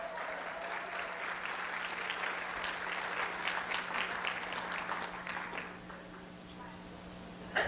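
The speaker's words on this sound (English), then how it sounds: "let's give a round of applause" An audience at a conference talk, some wearing wizard and witch hats, claps in a warm round of applause that swells, holds steady for several seconds, then thins out toward the end, with a faint voice or two underneath.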